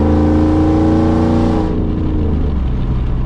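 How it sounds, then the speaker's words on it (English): A Chevy 5.3 V8 truck with an aftermarket exhaust revs loudly and close up, its deep, steady roar holding for over a second and a half before dropping into a rumbling idle, with no voices. "Hands down, as far as romping on it, best sounding truck I've ever had."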